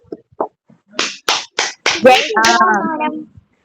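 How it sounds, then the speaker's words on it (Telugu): A handful of sharp, separate hand claps ring out close and loud for Varshitha at an uneven pace, and then a voice starts speaking. "తనకి వర్షితాకి క్లాప్స్ కొట్టాలి, గట్టిగా గట్టిగా క్లాప్స్ కొట్టాలి, వినిపించాలి"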